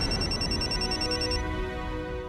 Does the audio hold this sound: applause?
no